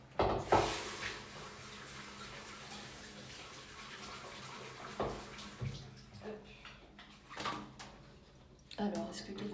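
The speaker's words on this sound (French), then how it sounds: "Je vais rincer mon entonnoir" A funnel is rinsed under running water during colour film developing, with splashing and trickling that starts and stops in bursts, plus clinks of handled items and background talk.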